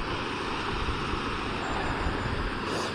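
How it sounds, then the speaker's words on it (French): Steady rushing water from a small waterfall along a mountain bike trail, a dense continuous wash that fills the whole moment with no pauses or talking. "Première petite cascade"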